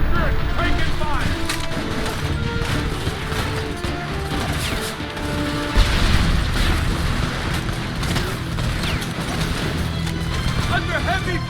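Heavy gunfire and explosions from the video game Homefront, with dense, continuous loud crashes, booms and shots layered into a chaotic battle din and voices shouting in the mix.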